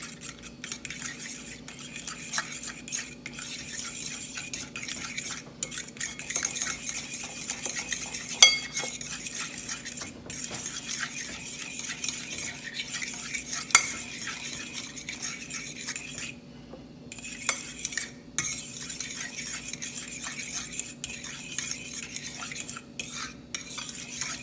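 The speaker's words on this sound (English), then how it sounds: "I'm just going to whisk it all together." A whisk clinks and scrapes steadily against a bowl while mixing ingredients seasoned with pink Himalayan salt during meal prep, a continuous rapid rattle with occasional sharper knocks.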